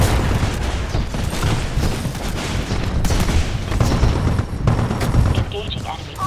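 Splitter rifle fire from the video game Titanfall 2 crackles in loud, dense, continuous volleys amid battle noise, with voices talking throughout.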